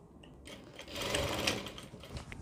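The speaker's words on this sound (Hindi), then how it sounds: "इस तरीके से सिलाई लगाएंगे" A sewing machine stitches fabric with a steady, close mechanical whir that builds in the middle of the run and runs on alone without speech.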